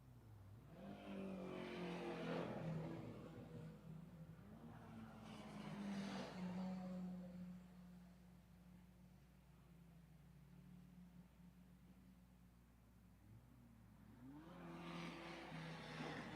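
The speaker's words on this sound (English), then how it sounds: "Greenfield and Frank Filingeri put a lap on the Windy City Special, the 1930 dirt track car with the 4-cylinder B-block engine" A 1930 dirt track race car with a 4-cylinder B-block engine laps a road course, its engine revving and rising in pitch as it passes, fading and then climbing again, heard from trackside.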